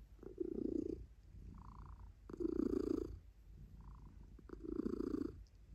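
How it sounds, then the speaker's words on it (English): A cat purrs up close in slow, rhythmic cycles, each rumbling inhale and exhale clearly audible in the quiet. "I guess you hear her purr."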